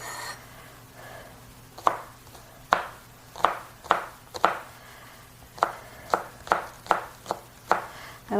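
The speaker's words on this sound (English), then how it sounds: "And I'm going to chop all the way through the green." A knife chops through green onions on a cutting board in about a dozen sharp, close knocks, spaced irregularly with short pauses, over a faint background hum.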